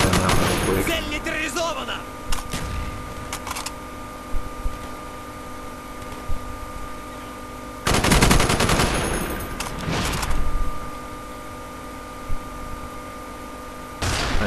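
Sniper rifle fire in a team deathmatch shooter, sharp cracks and bursts of gunfire scattered through the match, some near and loud, others more distant, with a player talking over them.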